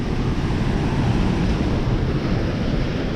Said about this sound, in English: You hear the water running through the bottom there.